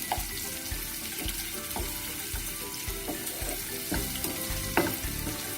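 Onions and curry leaves sizzle steadily in a pan for a moong dal, a soft constant crackle broken by light clinks and scrapes of stirring.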